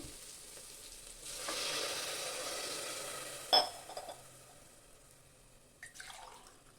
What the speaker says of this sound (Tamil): அரிசி அளந்த டம்ளர்லேயே இந்த தேங்காய் பாலை அளந்து சேர்த்துக்கலாம்.